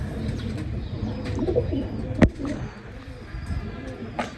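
Pigeons at a breeder's loft coo softly and rustle nearby, with a sharp click and faint background murmur of voices.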